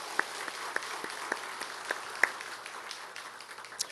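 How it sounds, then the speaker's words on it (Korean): Congregation applause during a Korean church Thanksgiving service, quiet and fairly sparse, with scattered distinct hand claps standing out at a loose, uneven rhythm over a soft clapping wash. "박수 한번 치겠습니다."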